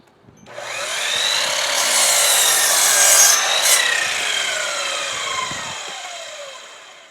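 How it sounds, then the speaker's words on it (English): A power miter saw slices through a wooden rafter board, a loud close whine that rises as the blade bites, holds through the cut, then slowly winds down, with no talk. "This is using this miter saw is a whole lot faster, and a whole lot more accurate."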